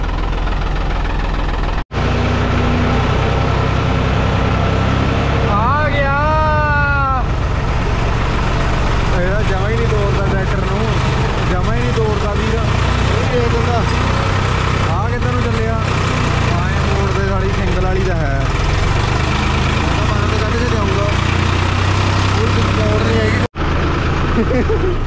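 A tractor engine runs steadily during corn silage work on a farm in poor weather, a low droning hum heard close throughout while people talk over it.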